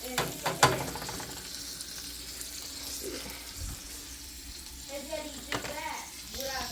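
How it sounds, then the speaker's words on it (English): Butter melts and sizzles in a pan with seasoned garlic lime chicken, a soft continuous frying hiss with light clinks and stirring, fairly quiet and close. "we are going to be adding 2 tablespoons of butter to this"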